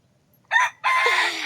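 Country hens give a short cluck, then a rooster lets out one loud, close crow that trails off, after a moment of near silence.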